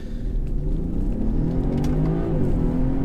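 A 2018 BMW 540i xDrive Touring's engine pulls steadily under acceleration, a continuous loud low drone with rising tones heard from inside the car, no voices over it.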